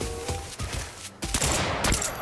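Gunfire in the video game Northridge Lockdown from an AK-74N with a 6x scope, sounding as sharp close shots and bursts that crackle through the clip, with louder rapid fire toward the end.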